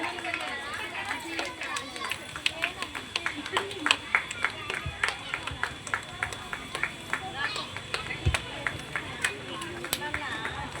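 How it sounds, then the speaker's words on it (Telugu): Scattered, uneven clapping from a group of women at a Women's Day celebration, sharp hand claps bursting out irregularly over steady crowd chatter and talking nearby. "చప్పట్లు కొట్టాలి."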